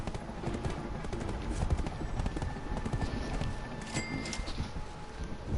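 Horse hooves clip-clop steadily along a road while auto-travelling in a video game, a continuous moderate rhythm of hoofbeats with soft ambient background and no talk.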